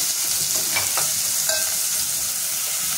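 Onions and green chillies frying in hot oil in a pan, a steady dense sizzle that stays loud and close throughout, with a few faint stirring clinks and no voices.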